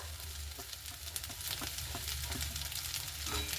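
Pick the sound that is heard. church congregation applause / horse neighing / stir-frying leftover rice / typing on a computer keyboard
stir-frying leftover rice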